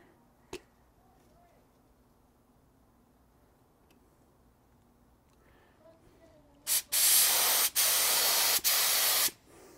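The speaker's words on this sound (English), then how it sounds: "Oh, I don't want it to spray that way." Quiet rustling, then a can of satin black spray paint hisses loudly in several sustained bursts separated by brief pauses, painting a rusty roof on a 1973 Mercury Cougar.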